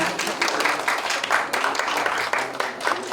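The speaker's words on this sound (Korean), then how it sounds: "여러분 다시 한번 뜨거운 박수 부탁드리겠습니다." At an agro-industrial complex award ceremony in a university auditorium, an audience gives a steady round of applause for the honorees. The clapping is dense and continuous, with slight swells and no speech over it.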